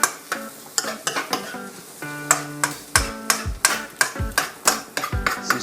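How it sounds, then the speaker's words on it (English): Onions frying in a wok while a utensil stirs them, with sharp metallic scrapes and clanks in a quick, uneven rhythm over a soft sizzle. "Now the onions are just starting to look good."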